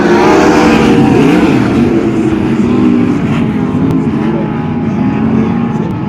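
Race cars pull away at the start of a heat race at Arizona Speedway, their engines roaring loud and close in a dense, rising drone, with no voices.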